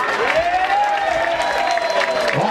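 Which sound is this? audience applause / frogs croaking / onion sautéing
audience applause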